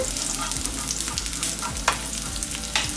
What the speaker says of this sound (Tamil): உள்ளியை போட்டு உள்ளியை கொஞ்சம் பொறிபட விடுங்க